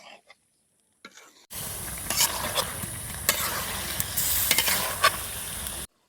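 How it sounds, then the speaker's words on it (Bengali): Country chicken frying with spices in a pan, stirred continuously with a loud, close sizzle and scraping strokes after a quiet start with a few faint taps. "এবার গোস্তটা ভালো করে আউজে নেবো।"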